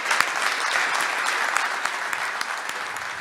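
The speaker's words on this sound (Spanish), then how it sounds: "Un aplauso." Audience at a judicial offices meeting in Neuquén breaks into applause, dense continuous clapping from many hands with a few sharper individual claps standing out, fairly loud and close throughout.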